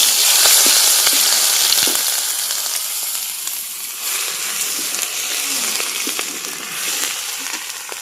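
Whole spices and garlic hit hot oil for a snakehead fish kalia, giving a loud, dense crackling sizzle that eases slightly but keeps going throughout, close up and with no voices.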